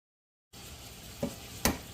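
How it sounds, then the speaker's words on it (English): Hamburger meat browning in butter in a pan, a soft steady sizzle after a moment of silence, with two sharper utensil scrapes or taps near the end. "We're browning up burger and we're making a frittata"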